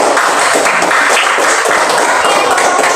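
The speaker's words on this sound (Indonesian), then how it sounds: "Itu tepuk tangan buat kelompok satu." A primary school class claps for a group of students, steady dense applause from many hands at close range.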